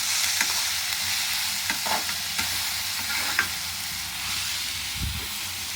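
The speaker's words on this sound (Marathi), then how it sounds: "तेल टाकलंय, तेल डायरेक्ट कांदा टाकलं." Onions fry in oil in a pan, a steady close sizzle with occasional stirring scrapes, all without speech.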